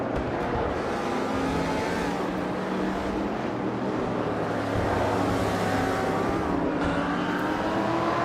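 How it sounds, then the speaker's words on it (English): Race cars in a video game race, among them a 1966 Ford Fairlane muscle car, roar steadily with revving engines and passing cars throughout. "Bot Uncanny Buddy is driving a 1966 Ford Fairlane, known for its classic muscle car design"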